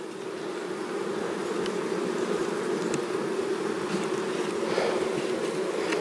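A dense, steady hum of many honeybees buzzing close by at a hive during a powdered sugar mite treatment, continuous and even, with no voices.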